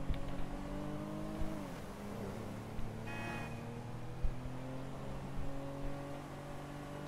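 A car drives steadily with a continuous engine drone and rising and falling tone, plus a brief higher whine partway through, close and fairly loud throughout.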